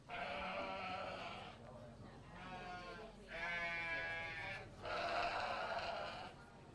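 Sheep bleat loudly and nearby in several long, wavering calls separated by short pauses, with people talking faintly in the background.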